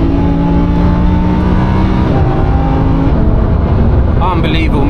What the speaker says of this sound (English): You are not beating naturally aspirated V10 engine.